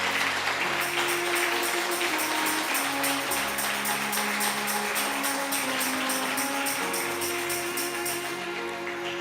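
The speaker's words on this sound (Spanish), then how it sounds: "este pueblo te da un aplauso con amor y con gozo en el nombre de Jesús" A church congregation applauds during a Christian worship service, dense steady clapping sustained for about nine seconds with sustained musical tones, likely keyboard or organ, running underneath.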